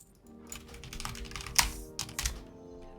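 Fingers type on a computer keyboard, quiet, quick irregular clicks in short bursts with a few louder key presses.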